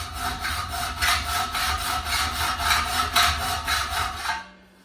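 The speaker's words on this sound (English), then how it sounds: "what I usually do is a bit of an hacksaw cut across here" Hacksaw cutting partway across metal trunking, rasping in a steady rhythm of back-and-forth strokes, close and loud, stopping just before the end.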